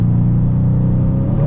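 Aston Martin DBX 707 engine accelerating on the Autobahn, a loud, close, steady rumbling drone with a slowly rising tone, heard from inside the cabin with no talk.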